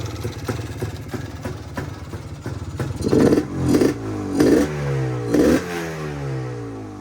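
A two-stroke Yamaha DT250 motorcycle engine, long-stored and crusty, runs steadily nearby with a rapid, rattly idle, then rises in a few short revs before settling back.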